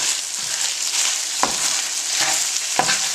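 Canned salmon scramble sizzles and fries steadily in a pan, loud and close, with a few sharp scrapes and taps as it is stirred and moved around.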